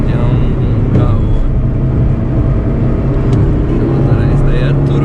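A turbocharged car passes on the Fernão Dias highway, its steady engine and tire roar continuous and loud, heard from inside a moving 1997 Chevrolet Corsa Wind MPFI with dense road noise throughout.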